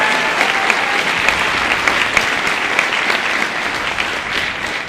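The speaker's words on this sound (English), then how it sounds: "Big round of applause, Cochran." Audience applauds steadily at a high school winter band concert, a dense, even wash of clapping from a large crowd that holds for several seconds without letting up.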